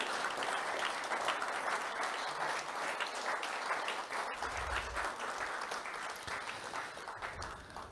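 An audience at a live podcast recording applauds a guest named Rachel, with steady, dense clapping that stays loud and even throughout and tapers slightly toward the end.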